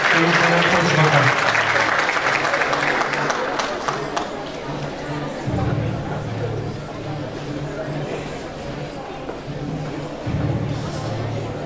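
Audience applause at a school achievement award ceremony, a loud wash of clapping that swells at first, then settles into a steady patter with rhythmic claps and faint crowd murmur underneath.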